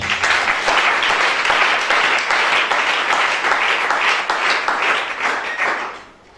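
Church congregation applauding loudly, with sustained dense clapping from many hands for about six seconds before it fades out at the end.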